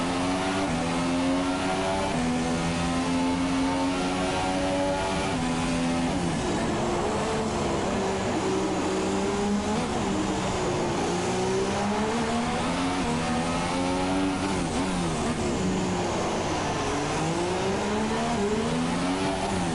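Formula 2 race cars in a racing video game at the Monaco circuit scream past continuously, with overlapping high engine notes rising and falling as they rev and shift through the corners.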